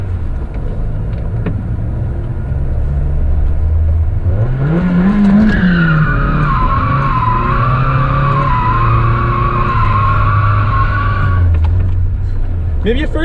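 A Mazda Miata drifting in figure eights, its engine revving hard and sustained near the limiter while tires squeal in a long rising then wavering wail; loud and close, with voices heard briefly.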